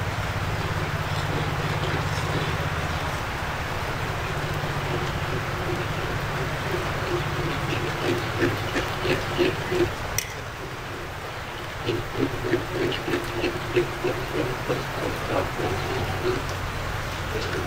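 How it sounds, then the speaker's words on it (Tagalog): Heavy rain pours steadily as a dense, loud wash of noise, with rapid patters and drips on a surface growing more prominent later on. "Lakas ng ulan."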